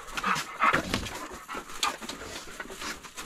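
A dog pants and snuffles near the listener during winter camping in a backyard hot tent, irregular breathy bursts with a faint whimper between them.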